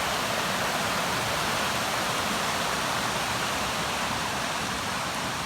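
Steady broadband rush of Jakes Creek flowing below a trail in the Great Smoky Mountains, a continuous even wash of water with no breaks and no voices over it.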